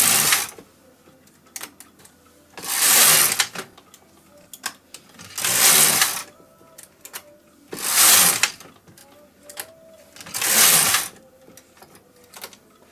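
A knitting machine carriage slides across short rows of a hat, giving five loud swishing, clattering passes at a steady rhythm with quieter clicks and handling noises between them.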